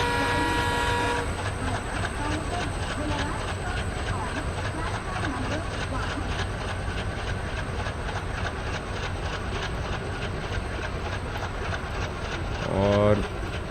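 The 17230 Sabari Express slowing down in Train Simulator, a continuous loud rumble of rolling stock with rhythmic wheel clatter and a steady hiss, a brief tonal whistle-like sweep near the end.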